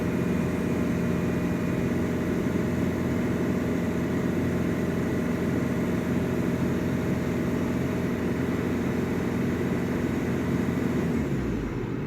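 A Ford Fusion engine idling with a steady, even hum held for about twelve seconds, suffering black smoke and loss of power, with the sound cutting off abruptly near the end.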